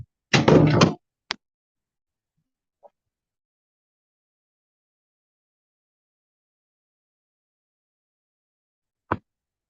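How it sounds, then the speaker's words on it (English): A dog opening a door indoors: a loud, close rattling thump near the start, then a sharp click, a faint tap during a long quiet stretch, and one last crisp click near the end, with no talking. "Everywhere I go, he knows how to open doors"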